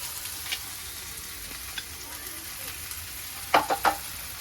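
Ginger garlic paste frying in a pan with already-browned onion and tomato for palak chicken, a steady close sizzle with a few sharp scraping stir clicks near the end.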